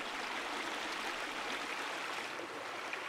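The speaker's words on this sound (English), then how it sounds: "This is a small creek. It has pristine, clear water." Small creek with pristine, clear water at the source of the Neretva river, flowing steadily as an even, close broadband rush with no voices.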